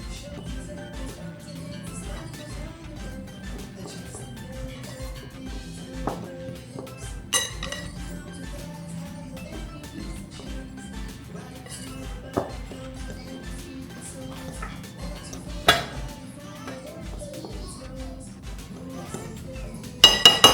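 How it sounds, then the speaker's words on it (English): A fork clinks and taps steadily against a bowl while dry ingredients are mixed together, the light metallic ticks continuing close by throughout, with a few sharper knocks. "we're gonna mix our dry ingredients all together. I'm just gonna use a fork so that it will be distributed"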